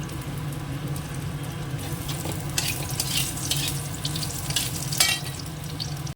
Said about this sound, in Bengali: আলুটা একটু ভুজে নিই আগে